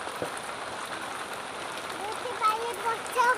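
Rain falling outside, a steady soft patter on surfaces with a few sharper drops near the end, fairly faint and continuous.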